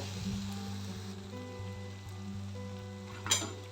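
Spice masala frying in oil over low heat as it is stirred: a faint, steady sizzle under a constant low stove hum, with one short scrape near the end.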